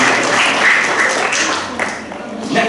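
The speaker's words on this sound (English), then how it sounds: "Can we get a nice round of applause for Ethan for showing us a brand new product?" Audience applause at a school celebration assembly, a steady, fairly loud patter of many hands that dips briefly and then swells again, with voices mixed in.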